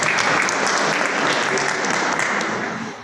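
Applause from parents, guardians and siblings in the audience at a National Honor Society induction ceremony, a dense, steady clapping throughout that fades slightly at the end.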